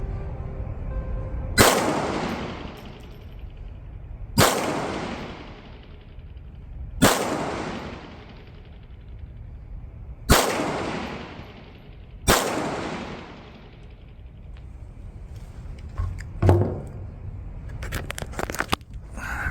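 Five sharp gunshots from a 1911 pistol fitted with a .22 target slide ring out at an even, fairly rapid pace outdoors at a range. Each report is loud and close and followed by a short decaying echo, with faint clatter near the end.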